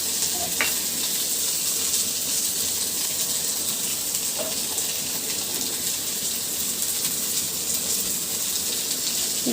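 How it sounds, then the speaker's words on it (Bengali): Sliced onion and green chillies fry in oil in a wok, giving a steady, dense hiss of sizzling with occasional faint stirring knocks, close and continuous with no talking. "কড়াইয়ের ভিতরে দিয়ে দিচ্ছি আমি পেঁয়াজ আর কাঁচামরিচ"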